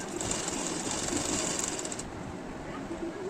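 Sewing machine running a steady top-stitch along a kurti, a continuous close whirring buzz that holds for about two seconds, then eases into a quieter hum.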